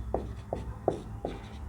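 Pen strokes on paper while working a maths solution, four short scratchy marks spaced evenly about a third of a second apart, close and clear against a quiet background.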